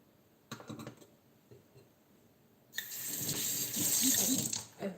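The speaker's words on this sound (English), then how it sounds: "I have washed it again with the salty water" A kitchen tap runs as fish is rinsed in salty water, beginning with faint trickles and splashes, then a loud steady gush of running water for the last two seconds.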